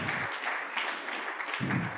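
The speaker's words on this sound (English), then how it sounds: "All right, round of applause." Audience applause welcoming a host on stage at a museum music event, a steady wash of clapping across the whole stretch, with low rumbling handling or stage noise at the start and end.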